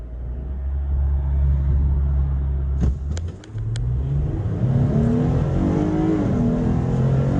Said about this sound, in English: I'm gonna try to power brake it a little bit, not too aggressive, but just a little bit to see if that number changes